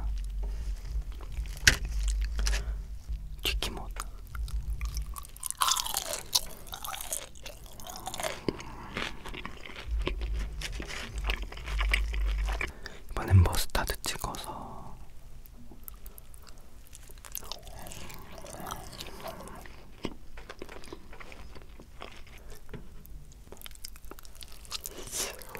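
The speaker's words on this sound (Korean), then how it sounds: "이번엔 양념치킨 먹어볼게요" Close ASMR eating of yangnyeom (seasoned fried) chicken, with crisp crunching bites and wet chewing in irregular bursts and quiet pauses between them.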